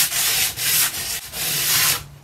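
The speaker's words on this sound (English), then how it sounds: "sand this a little bit." Sandpaper worked over chalk-painted wooden furniture to distress the finish: about five steady, close, raspy back-and-forth strokes with brief pauses between them, and no talk.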